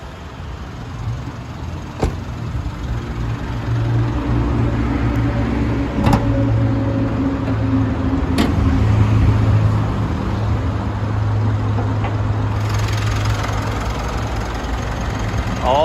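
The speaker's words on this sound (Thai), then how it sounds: "ผมขออนุญาตสตาร์ทเครื่องด้วยเลยนะครับ จะได้ฟังเสียงเครื่องนะครับ" Mitsubishi Triton Plus double cab from 2018 with a 2.4 MIVEC clean diesel idling, a steady low throbbing hum with a few sharp clicks, close and even throughout.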